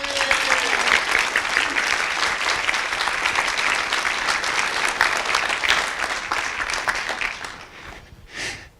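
Loud, sustained audience applause fills the room, steady and dense for several seconds before dying away near the end.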